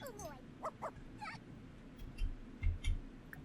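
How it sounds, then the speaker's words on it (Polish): A dog in a video game, probably The Sims, gives several short, quiet yelps and whimpers over a low background hum. Soft thumps follow toward the end, and no one speaks. "Aurorcia, piesek jest głodny, miałaś się nim zajmować, napełnij mu miseczkę"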